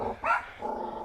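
A dog near a garden in Hong Kong gives a short sharp bark, set between low rumbling growls, close by and fairly loud.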